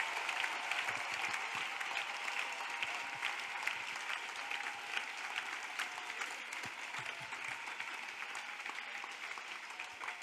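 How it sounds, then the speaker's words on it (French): Congregation clapping steadily and loudly at a prayer and intercession service, a dense continuous wall of applause with no pauses throughout. "Let us clap for Jesus Christ."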